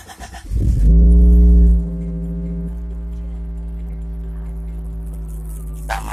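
A Honda Accord Prestige engine warms up at idle: a loud burst as it fires, a brief high rev, then a steady low humming idle close by, with no talk.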